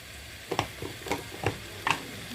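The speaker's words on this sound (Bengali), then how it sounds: "আমি সবজি চাল একসাথে ভেজে নেব।" Vegetables and rice stir-frying together in a pan for vegetable khichuri, a quiet sizzle broken by about five distinct scrapes and knocks of a spoon against the pan.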